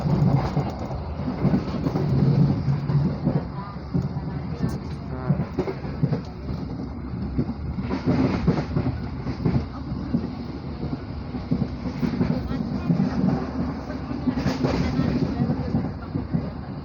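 A train entering Lemah Abang station in Bekasi rolls along with a continuous heavy rumble and rhythmic wheel clatter, moderately loud and steady.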